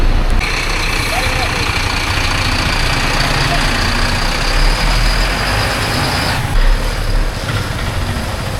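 A bus engine idling at the Bodinayakkanur stop, a loud, steady, close rumble that holds throughout, with a faint hiss and hum above it and people talking under it.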